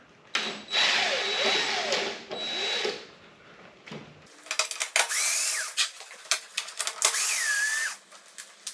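Power drill running on Phillips head screws while side panels come off a Kawasaki VN1700 motorcycle, with several bursts of whirring that rise and fall in pitch, loud and close, with short pauses between them.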